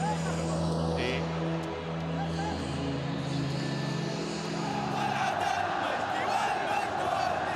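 Large stadium crowd of tens of thousands at a night AFC Champions League quarter-final football match between Al-Ahli Saudi and Johor Darul Ta'zim, a loud steady roar of voices with chanting swells and some whistling.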